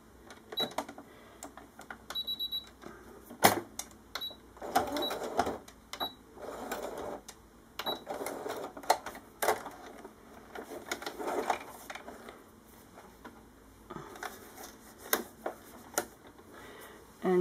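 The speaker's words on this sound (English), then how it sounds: "all I'm basically going to do is I'm going to go to a straight stitch" A sewing machine running a straight stitch along a fabric hamster bed, heard in several short bursts of stitching with pauses between them, moderately close and with no talking.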